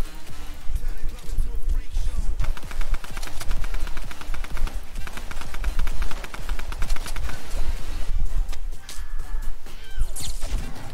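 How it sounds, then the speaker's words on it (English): Rapid, dense gunfire from a Fortnite Battle Royale match, with loud bursts of automatic fire and impacts running almost nonstop at close range, plus a player's voice talking over the shooting. "who keeps shooting me?"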